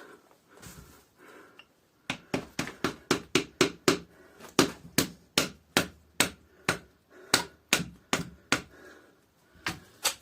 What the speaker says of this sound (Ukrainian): Якщо нема змоги зробити розпил, можемо то все розколоти нашим ножем